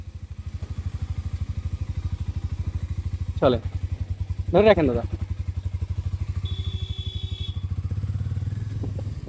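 A Harley-Davidson X440 motorcycle idles with a steady, deep, rhythmic thumping pulse throughout, while someone speaks briefly over it and a faint high tone sounds in the background.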